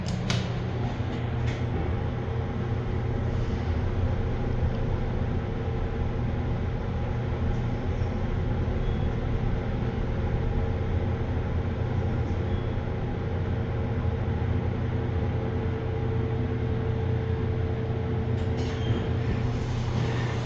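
Buckley traction elevator at a Worcester Union Station skybridge descending to lower parking: a steady, continuous low hum and rumble of the moving car, with faint clicks at the start and end, and no talking.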